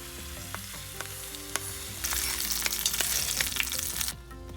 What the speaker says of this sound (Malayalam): ഇനി സ്റ്റൗ ഓഫാക്കി ഇത് മോരിലേക്ക് ചേർക്കുകയാണ്